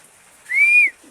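A single drawn-out whistle-like call rises and falls in a pigeon loft during a storm, over a quiet background, with a faint low murmur just after.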